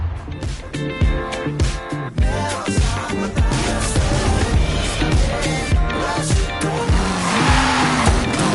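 A Dodge Dart with a 7-liter, 425-horsepower Hemi engine drives loud and close in Forza Horizon 5, its engine revving and shifting through gears as tires squeal, all under backing music.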